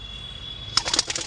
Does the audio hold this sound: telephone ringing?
no